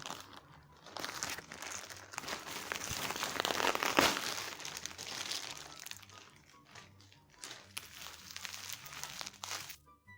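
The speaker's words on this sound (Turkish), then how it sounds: "paketi açana kadar canım çıktı" A packet of Kahve Dünyası hot chocolate sachets being torn and opened, with continuous close crinkling and crackling of plastic wrapping that swells in the middle and fades near the end.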